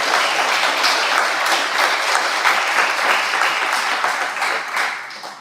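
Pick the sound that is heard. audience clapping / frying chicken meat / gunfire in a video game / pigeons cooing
audience clapping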